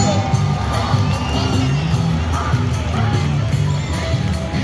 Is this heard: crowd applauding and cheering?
yes